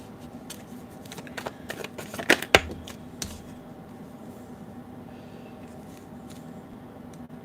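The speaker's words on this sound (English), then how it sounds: "I need to stop shuffling now" Tarot cards riffled and shuffled by hand indoors, a cluster of crisp flicking and snapping strokes in the middle followed by lighter scattered taps, fairly close and quiet over low room hum.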